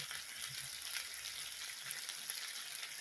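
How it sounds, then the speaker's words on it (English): Teriyaki chicken kebabs sizzle on an indoor grill with a steady, close, broadband hiss and faint crackles running unbroken from start to finish. "we're going for the sizzle"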